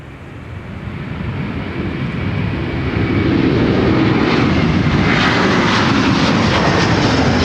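A Delta jet airliner bound for Amsterdam Schiphol takes off on runway 4, its engine roar loud and broadband, building steadily and then holding at full power without pause.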